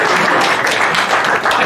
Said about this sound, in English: Let's just get a round of applause for the great showing that our juniors had.